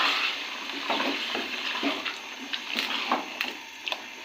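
Water or stock poured into a pot of aloo keema (potato and minced meat curry), a steady broadband splashing and trickling with faint sizzling, close and moderately loud, with no voices.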